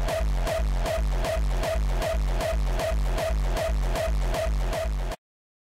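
Loud electronic kick drum layered with punch and tail, driven and reverbed, pounds out a steady run of about twelve even, booming hits over five seconds before cutting off sharply.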